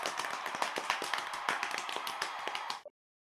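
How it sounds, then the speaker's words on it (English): Applause in a game scene after a guitar song ends: dense, bright clapping with scattered sharp claps, steady and fairly close for under three seconds, then cutting off abruptly. "Everyone jumps around, cheering and applauding."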